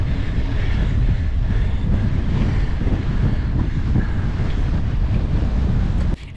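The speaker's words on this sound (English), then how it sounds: "Not only was I trying to hold off Peter, we had a brutal headwind that made one of the fastest parts of the race significantly slower." Strong headwind roars steadily across the microphone during a mountain bike stage race at Klondike Bluffs near Moab, loud buffeting rumble throughout with no talk.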